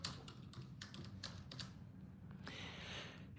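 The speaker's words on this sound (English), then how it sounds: "I'm typing one finger" Keys tapped one finger at a time on a computer keyboard, a slow irregular run of faint clicks in a quiet room, followed by a steadier soft hiss.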